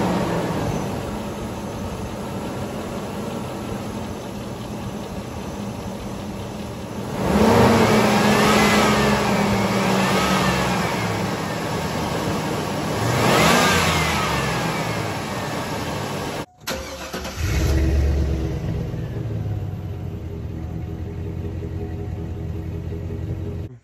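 A 2001 Chevy Silverado 1500's 5.3-liter V8 idles with a deep rumble, then revs hard twice with rising and falling roars before dropping back to idle.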